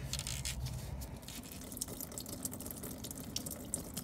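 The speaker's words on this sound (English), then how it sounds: "loosen this up and allow the coolant to drain out" Coolant drains from a Ford EcoBoost 2.7 engine, making a faint, steady trickle and splash of liquid that continues without a break.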